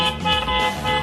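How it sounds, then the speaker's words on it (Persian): A phone-controlled toy car sounds its horn in one steady electronic toot, close and fairly loud, lasting about a second. "این ماشین کنترلی بوق داره"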